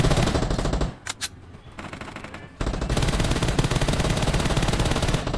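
An M416 assault rifle in PUBG Mobile fires long automatic bursts, loud and close, broken by a short pause with a couple of separate sharp sounds before the rapid rattling fire resumes; nobody talks.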